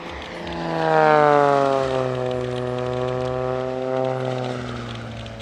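A single-engine propeller aerobatic aircraft performs a low-level airshow routine with a pyrotechnic chicane run, its engine drone loud and steady with rising and falling pitch bands as it rolls and passes nearby, no voices.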